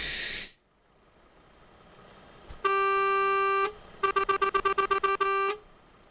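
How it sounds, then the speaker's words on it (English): Truck horns in a trucking video game during an online convoy event, one long steady honk followed by a rapid series of short repeated blasts and a final longer toot, loud and close with no talk over them. "That one's more like a train horn."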